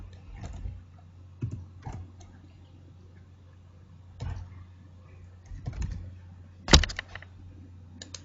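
Sparse keystrokes on a computer keyboard, a few short clusters of soft clicks separated by pauses, with one sharper louder click near the end, over a low steady hum.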